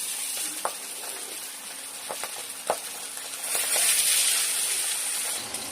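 Pabda fish slid into hot oil set off a continuous sizzle and hiss, swelling louder midway, with scattered sharp clicks and pops of utensils and spattering oil; no voices.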